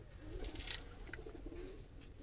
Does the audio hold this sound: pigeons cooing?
yes